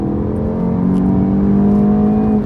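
A VW Golf GTI MK7 with a Unitronic tune pulls hard in second gear, its engine note rising in a loud, steady drone heard from inside the car with no talking.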